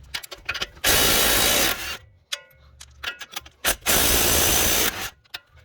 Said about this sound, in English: next we're gonna go ahead and take off our strut mount bolts